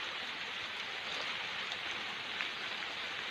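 Rain falls in a forest, a soft, even hiss of drops that stays faint and continuous, with no voices heard.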